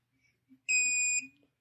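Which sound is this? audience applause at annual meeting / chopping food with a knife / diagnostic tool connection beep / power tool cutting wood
diagnostic tool connection beep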